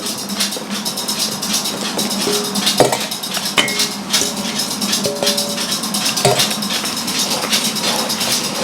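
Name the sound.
mixing almond powder and eggs for marzipan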